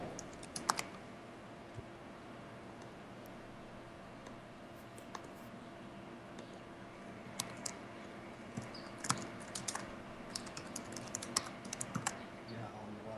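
Someone types steadily on a computer keyboard: faint, uneven bursts of light key clicks that grow busier toward the end, under low background sound and occasional talk.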